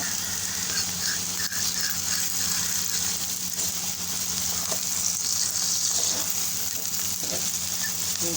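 Spices sizzle steadily in hot ghee alongside browned fried okra and onion, a constant close hiss and crackle with no pauses.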